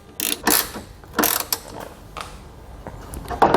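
Ratchet tightening a 10 mm bolt on a truck tailgate during installation of a DeeZee tailgate-lowering system on a 2019 Ford, heard as several quick, close bursts of ratcheting clicks separated by short pauses.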